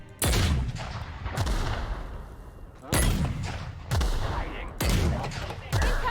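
Grenade launcher firing in The Outer Worlds, heard as five heavy booming shots spaced about a second apart, each loud blast with a thudding low end and a trailing rumble.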